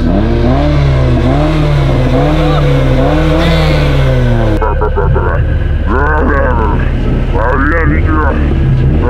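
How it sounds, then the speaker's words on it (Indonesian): A car engine revs up and down in repeated surges with a wavering pitch, then cuts off as voices talk over quieter engine noise. "Mobilnya ngegas sendiri."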